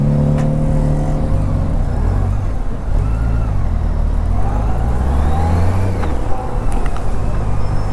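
Road traffic in Dubai rumbles close by, with a steady engine drone, shifting revs and vehicles moving past, forming a continuous loud wash with no clear talk.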